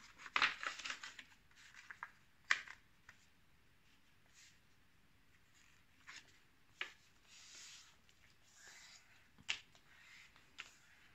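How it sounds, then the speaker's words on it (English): A sheet of paper is folded and its creases pressed down firmly by hand while making a paper cracker. Sharp, close creasing snaps and soft rubbing come in scattered bursts, with quiet gaps between them. "all creases need to be folded down really firmly"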